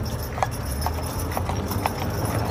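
Hooves of a team of draft molly mules clip-clop at a steady walking rhythm, moderately close, over a constant background noise.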